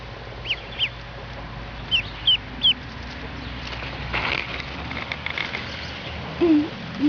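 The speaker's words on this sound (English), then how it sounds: "Such nice ducklings." A mother hen clucks softly beside her ducklings, with a few short high peeps in scattered bursts and a couple of louder calls near the end, close by over low background hum.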